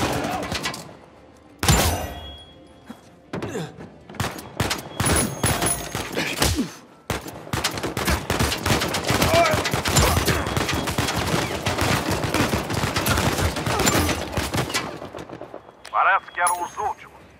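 Gunfire in the Uncharted 4 video game, with dense bursts of rapid shots and heavy thumps that pause briefly and then resume, loud and close, with a voice speaking over parts of it.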